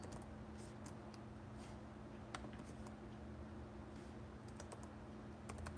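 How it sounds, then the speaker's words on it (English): Quick, irregular keystrokes on a computer keyboard, fairly faint and close against a steady low background hum, with no talking. "Let me just type that in."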